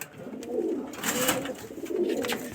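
A male pigeon of a hot-tempered flying breed coos nearby in low, throaty repeated calls, with some rustling and fluttering between the coos and no talking.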